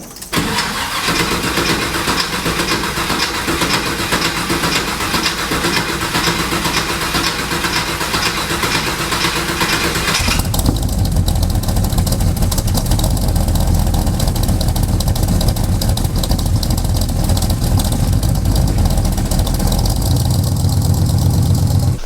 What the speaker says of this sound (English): Let's see how she starts up with the new spark plug and new boot.